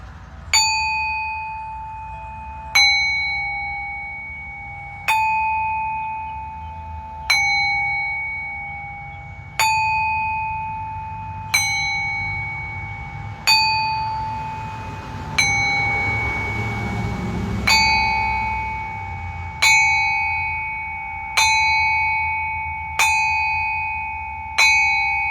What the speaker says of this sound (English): It's amazing what some ringing of some bells will do to our conscience here.